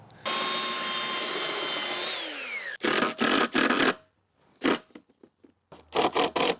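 A power saw makes a cut through a wooden board during a small-car camper van build, a loud steady whine lasting about two seconds and winding down, followed by bursts of rustling, scraping and handling noise.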